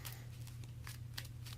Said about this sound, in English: We're going to shuffle our deck into our hand